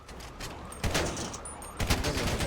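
Gunfire in a GTA roleplay video game: a steady stream of rapid shots with heavier bursts about a second apart, loud and close, with no talk over it.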